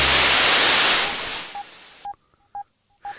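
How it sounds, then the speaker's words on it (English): Loud hissing white noise from a modular synthesizer fades away, then a few short electronic beeping tones sound in a sparse pattern. "The white noise is slightly offensive,"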